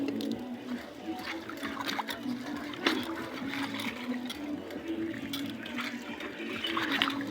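A river's water flows in a soft, continuous trickle and rush, quiet and steady with small splashy ripples and no clear voices.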